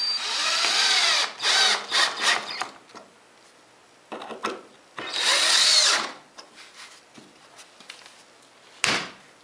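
Power driver screwing a scrap piece of wood down to a radial arm saw table: two long loud whirring bursts, each followed by short stuttering pulses, then a sharp clunk near the end.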